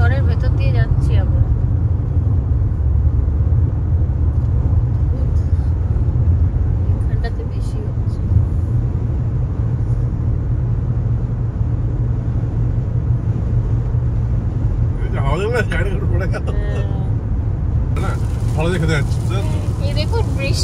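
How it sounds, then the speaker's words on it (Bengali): A car drives through a dust storm in Australia, with a steady low road and engine rumble and wind noise throughout and people talking over it. "সত্যি ধুলোর ঝড়ের ভেতর দিয়ে যাচ্ছি আমরা,"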